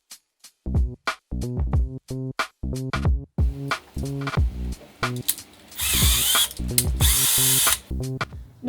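Bursts of a power drill whirring on and off in short repeated runs with progressively bigger drill bits, then a longer grinding stretch as the bit bites through material, close and loud.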